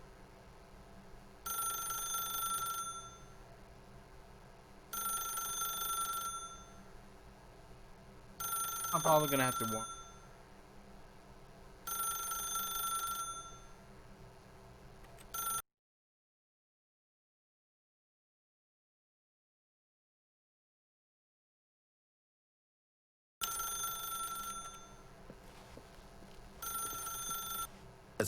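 A telephone rings in The Stanley Parable video game, four evenly spaced rings with a short pause between each, loud and close. Someone talks over the ringing and the clip goes silent partway through before the ringing returns.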